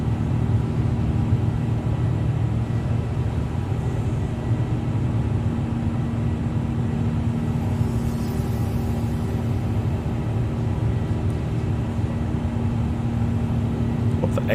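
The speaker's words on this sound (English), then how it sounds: "Beautiful sounds coming off the aeroplane." A Cathay Pacific Airbus A350 airliner in a flight simulator gives off a constant deep engine roar and rumble with a steady low hum, loud and unbroken throughout, with no talk.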